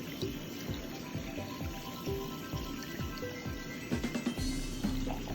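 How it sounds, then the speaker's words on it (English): Water runs and trickles steadily from a hose, with soft splashing and dripping that grows briefly louder near the end. "Kind of run the water along the back of the ear."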